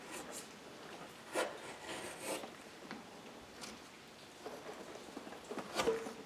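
A hand tool carving and dishing out a curve in a bear claw, making soft, close scraping strokes at an irregular pace, faint overall with a few sharper scrapes and no talking.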